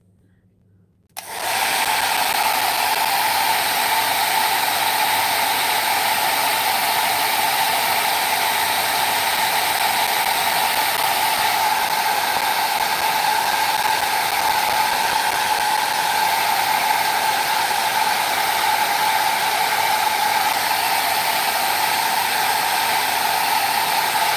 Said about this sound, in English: I'm going to use my heat tool, so if you don't like the noise, mute me for a little bit.